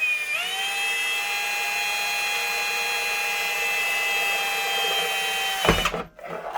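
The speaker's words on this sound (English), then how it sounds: "you can take your drill again, line it up, and drill another hole for the" Power drill boring a hole for wires in the base of a custom Gemmy snowflake spinner snowman decoration, a steady high-pitched whine held for several seconds before the motor winds down and stops with a clunk.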